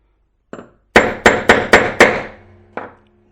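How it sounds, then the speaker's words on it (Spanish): Seven light hammer taps on a hard surface, sharp and close: one tap, then a quick run of five evenly spaced strikes, and a final tap after a short pause. "Y damos unos golpecitos de martillo."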